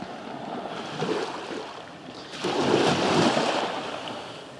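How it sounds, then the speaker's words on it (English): Sea water at Traeth Lligwy beach on Anglesey, a steady wash of small waves lapping and surging, swelling louder midway, with wind buffeting the microphone and no talking. "You can sit here and just listen to the water."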